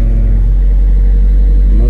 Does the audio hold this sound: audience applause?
no